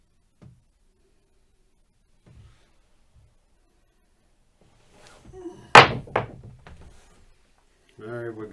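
A pair of dice tossed off-axis clatters onto a table with one sharp thunk and a short rattle, following some faint earlier taps. A voice briefly comes in at the end.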